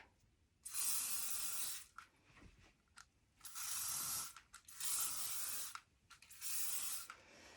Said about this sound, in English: This is just a flexible hold hairspray